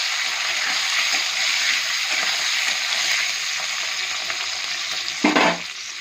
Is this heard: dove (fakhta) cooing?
no